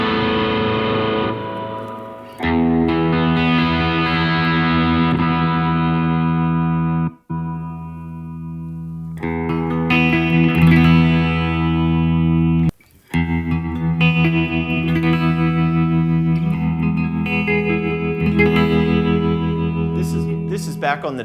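A Yamaha THR10C guitar amp plays loud electric guitar chords and sustained notes drenched in heavy reverb, with two brief dropouts between phrases and the wash of reverb tails filling the gaps.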